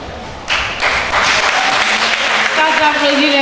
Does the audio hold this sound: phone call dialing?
no